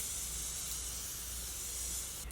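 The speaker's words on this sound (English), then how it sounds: "I am gonna be using my Morphe spray and just setting my face with that" Morphe setting spray misted onto a face during makeup, a steady soft hiss held for a couple of seconds, close and quiet.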